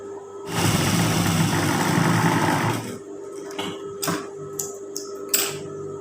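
A sewing machine stitches trouser fabric for a pocket under the waistband in a close, steady run of rapid mechanical whirring for about two seconds, followed by quieter clicks and handling taps.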